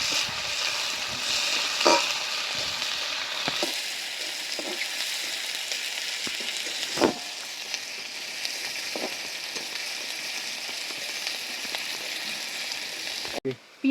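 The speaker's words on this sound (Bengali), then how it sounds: "এবার আমি পেঁয়াজটা ভালো করে ভেজে নেব।" Onions fry in a pan for chicken kosha, a soft steady sizzle under occasional sharp clacks and scrapes of stirring, fairly quiet and close, with no clear speech.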